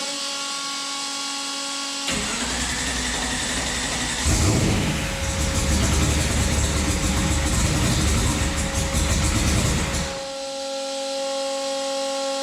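Turbocharged COPO Camaro engine cranking and trying to fire, a loud rough broadband roar lasting about six seconds over a steady mechanical hum, then dropping back to the hum.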